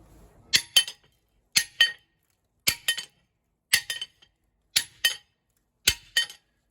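A piece of non-annealed steel, being tested for bead lock rings, is dropped again and again, each fall giving a sharp, bright glassy clink with a quick bounce. Six evenly spaced double clinks ring out loudly against silence.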